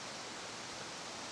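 Steady broadband rush of a creek flowing beneath a bridge on a rainy hike, even and continuous at moderate distance with no voices.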